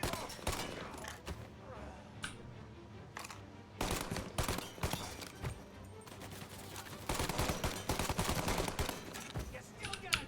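Gunfire erupts in the video game Mafia: Definitive Edition, with rapid bursts and volleys of shots, some in quick automatic strings and others as sharp single cracks, loud and close amid brief shouted voices.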